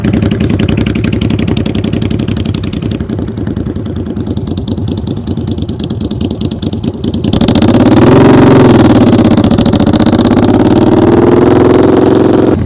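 A motorcycle engine runs steadily during slow-speed riding practice, a loud continuous idle that rises in pitch and volume partway through as the throttle is opened.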